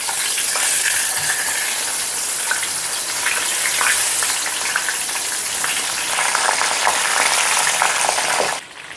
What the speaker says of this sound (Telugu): ఇప్పుడు ఇందులో మనం ముందుగానే ప్రిపేర్ చేసి పెట్టుకున్న ఈ వంకాయల్ని వేసుకుందాం.